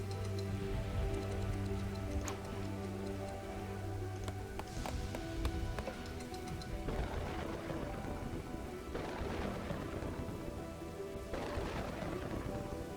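Rain falling steadily in the city-building game Kingdoms and Castles, with rumbling thunder swells, a dense continuous hiss and a few clicky ticks mixed in, no talking.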